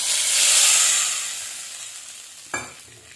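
Hot tadka poured into boondi kadhi, a loud sizzle and hiss that swells then fades over a few seconds, followed by a brief clatter near the end; no talking.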